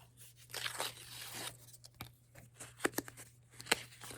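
An envelope of trading cards being torn open by hand, with ripping and crinkling paper sounds at close range, ending in a few sharp tearing snaps; a steady low hum runs underneath.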